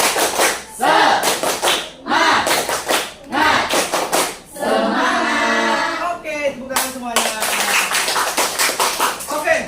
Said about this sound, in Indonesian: Oke, tepuk lagi, tepuk semangat.